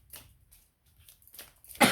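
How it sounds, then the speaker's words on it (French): A woman coughs, short breathy bursts spread across the moment, ending in one sharp, loud cough close to the microphone. "je tousse beaucoup"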